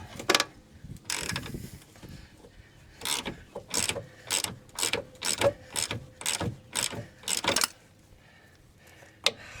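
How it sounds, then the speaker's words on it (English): A ratchet wrench clicks in quick repeated bursts while turning an 18mm bolt on a 2010 Jeep Patriot, loud and close, with short pauses between strokes and no talking. "Usually you'd use the regular size wrench for the other side of this bolt"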